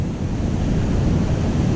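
Winter ocean surf washes steadily onto a beach under light, intermittent rain, a continuous broadband roar of breaking waves mixed with gusty wind buffeting the microphone, close and loud throughout with no voices.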